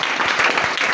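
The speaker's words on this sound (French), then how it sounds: "Est-ce que tu peux donner une acclamation à la parole de Seigneur?" Brief burst of congregational applause in a church, dense close clapping from many hands at full, steady loudness.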